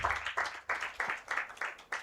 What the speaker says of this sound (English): let's give a big round of applause to these ladies